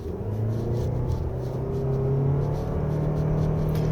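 A 2023 Toyota RAV4 Hybrid AWD engine accelerates in Eco mode on a wet winding road, a steady low droning rumble heard from inside the cabin, rising slightly in pitch, with no talk.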